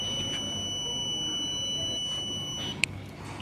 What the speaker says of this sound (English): It will again beep for 1 minute.